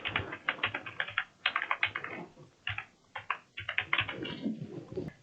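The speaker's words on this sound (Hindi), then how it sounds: "तो मैं यहाँ पे एक हेडिंग टाइप करता हूँ" Typing on a computer keyboard while entering a heading for a salary slip in Microsoft Excel, with quick bursts of close, crisp key clicks separated by brief pauses.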